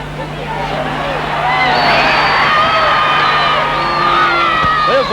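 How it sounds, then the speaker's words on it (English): A football crowd at the 1965 WAFL Grand Final, East Fremantle versus Swan Districts, roars after a goal. The loud, swelling cheer rises and holds beneath a commentator talking over it. "Crowd go mad again as East Fremantle come back to their 4-point lead"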